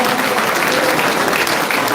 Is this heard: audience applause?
yes